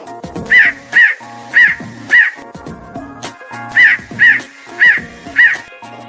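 A crow caws loudly and close, in two bursts of four harsh calls each, evenly spaced, over a faint droning background.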